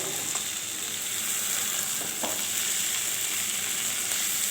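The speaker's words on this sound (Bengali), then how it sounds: "তাই আমি হালকাভাবে এরকম নাড়াচাড়া করে একটু নামিয়ে নেব।" Small fish curry with ridge gourd simmering and sizzling in a pan while being stirred gently, a steady loud hiss with a few soft scraping touches, no talking.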